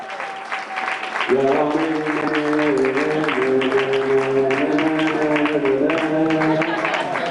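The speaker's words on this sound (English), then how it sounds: "give a loud round of applause to Rabbi Zecharia Wallerstein" Audience applause welcoming a rabbi to speak at a New Year's gathering: steady, moderately loud clapping with a voice talking prominently over it.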